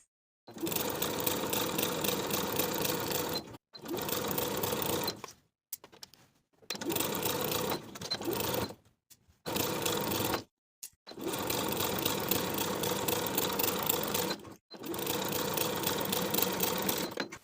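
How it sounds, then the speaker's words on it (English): A sewing machine stitches a facing onto the front bodice of a lace-trimmed poet blouse along a 1/4 inch seam, running in six loud, steady bursts separated by short pauses, with no talking. "Sew the outer edges of the facing in place to the front bodice with a 1/4 inch seam allowance."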